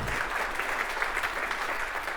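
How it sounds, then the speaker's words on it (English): A round of applause for a volunteer at a hearing-care training session in London, steady, even clapping from a room audience, fairly quiet and continuous with no voices over it. "Let's give her a round of applause"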